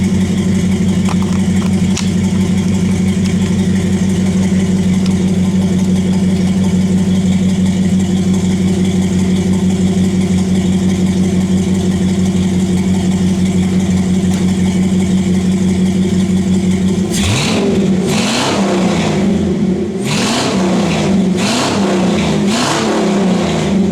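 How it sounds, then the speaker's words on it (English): An LS-swapped third-generation Camaro on a cold start holds a steady, throaty idle for a long stretch, then barks through several short, sharp revs that rise and fall back to idle. "Alright, I'm going to do a couple little rev ups for y'all."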